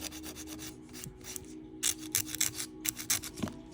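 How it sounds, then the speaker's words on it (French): A nail file rasps along the edges of a gel nail tip, close-up strokes of dry scratchy friction in quick irregular bursts, quieter at first and then sharper in a rapid back-and-forth series. "Si la capsule elle est un petit peu trop large, donc on peut, je vais zoomer un petit peu, on peut limer un petit peu les bords."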